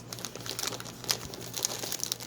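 Plastic packaging crinkles close by while a gift is unwrapped, giving a continuous soft crackle with small sharper crinkles through the brief stretch.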